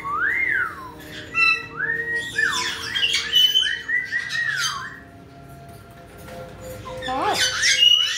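A pet bird squawks and whistles up close in a series of sharp, rising and falling calls and chirps, with a person speaking quietly nearby.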